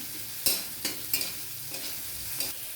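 Tomato and ginger fry in a little oil for a vegetarian dish, a soft low sizzle broken by a handful of spaced stirring scrapes and clacks of a spatula against the pan.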